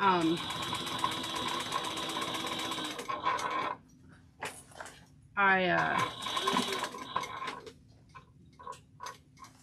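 A sewing machine top stitching a travel bag hums and ticks in two long runs separated by a pause with clicks, while a person talks over it nearby.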